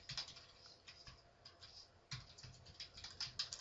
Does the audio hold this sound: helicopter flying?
no